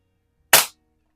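A Rohm Twinmaster Match air pistol fires a single shot at a can, fired weak-handed: one sharp, loud crack that decays quickly into silence.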